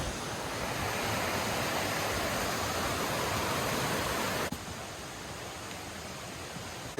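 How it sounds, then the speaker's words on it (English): A full, fast stream running beside a hiking trail in Baxter State Park, northern Maine, a loud, steady broadband rush of flowing water that drops slightly in level partway through. "there's a ton of water in this stream that runs along the trail"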